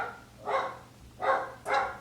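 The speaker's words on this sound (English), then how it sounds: "the dog is just barking in the background as I'm talking" A dog barks three times in the background of an indoor room, in short separated bursts with pauses between, moderately distant and fairly faint.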